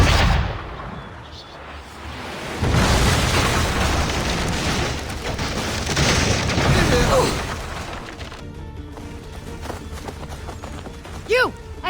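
In the video game Assassin's Creed III, heavy booming blasts and rumbling cannon fire with shouting voices, followed by quieter clatter and whistling sounds near the end.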